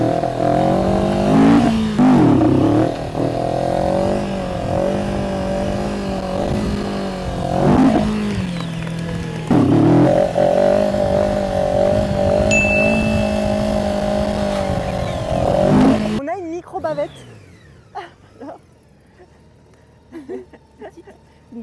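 A Honda Gold Wing motorcycle revs and accelerates up close with a loud, sustained engine drone that rises and dips in pitch several times. In the final seconds it drops away to a faint fade.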